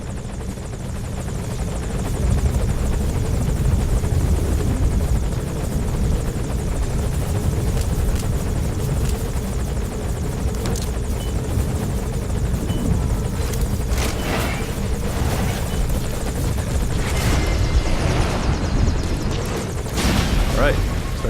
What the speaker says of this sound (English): looks like the helicopter has moved into a holding pattern here, which is bad for us